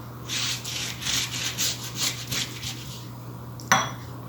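A pastry brush spreading olive oil over a sheet of yufka pastry gives soft, close swishing strokes in a steady rhythm of about ten sweeps, followed by a single sharper tap.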